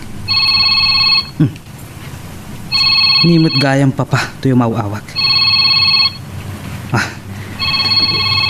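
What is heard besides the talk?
cellphone ringing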